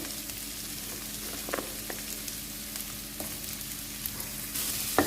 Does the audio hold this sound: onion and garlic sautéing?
yes